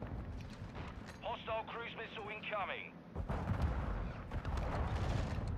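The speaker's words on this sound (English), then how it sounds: "the explosions in this game" Explosions thunder in Call of Duty Modern Warfare 2 multiplayer gameplay, faint low rumbling blasts and booms with a player's voice over part of it.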